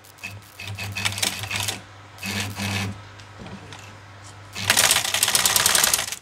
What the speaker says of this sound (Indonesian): saya udah lama tidak mempergunakan mesin hitam